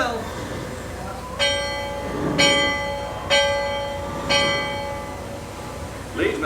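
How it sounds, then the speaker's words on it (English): The Liberty Belle riverboat's bell rings four separate times at a steady pace, clear and bright with a long ringing decay, while low background murmur continues underneath. "Sound last bell."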